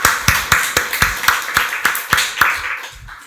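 A church congregation claps during a Sunday worship service, about a dozen sharp, evenly spaced claps in a steady rhythm that fades toward the end, with no talking.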